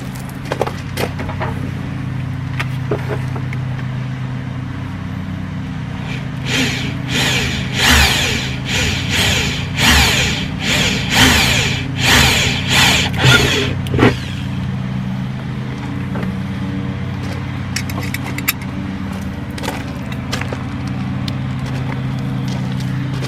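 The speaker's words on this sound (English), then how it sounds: "it's just going to be marking and drilling out my 4 holes to get my backing plate mounted up" A power drill bores four holes to mount a backing plate for an ARB air compressor in a Jeep JK. Repeated loud whirring bursts of drilling sit in the middle over steady low background hum, with quieter stretches before and after.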